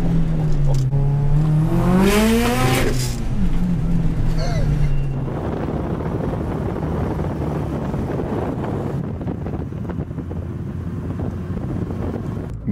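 Subaru Impreza STI making 500 hp with an external wastegate, revving loud and close with rising and falling engine pitch in the first seconds, then a steady rumble with wind buffeting; faint voices at times.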